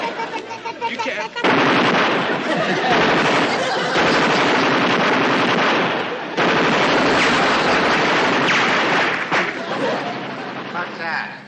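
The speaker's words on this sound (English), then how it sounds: "Sounds like machine gun fire, sir." Machine gun fire from a TV series rattles in long, loud, dense bursts near the microphone, broken by short gaps, with voices speaking under and around it.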